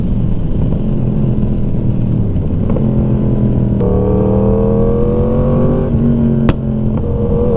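Heard from a motorcycle on the road, a loud 2019 four-cylinder Chevrolet Camaro revs up nearby, its engine tone rising strongly over steady wind and road rumble.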